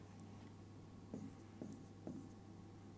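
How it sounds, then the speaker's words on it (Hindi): Pen writing on paper during a geometry lesson on congruent triangles, three quiet, evenly spaced scratchy strokes over a low steady hum. "इधर ये भी लिख देते हैं"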